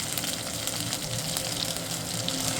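Chili paste fries in an earthen pot for egg gravy, a dense, steady sizzle that holds close and constant throughout.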